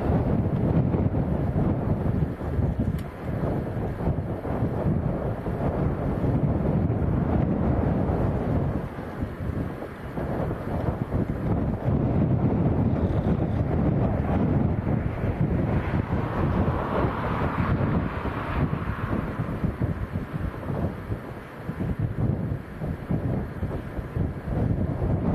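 Strong wind of about 40 mph at Leeds Bradford Airport roars and buffets against the microphone in a steady, loud broadband rumble, with gusts rising and falling throughout.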